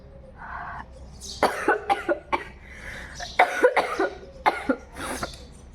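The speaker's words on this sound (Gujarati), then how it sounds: "મને ઉધરસ ચડી ગઈ" Several harsh coughs in cold weather come in close bursts, loud and near, separated by brief pauses, with faint background hiss.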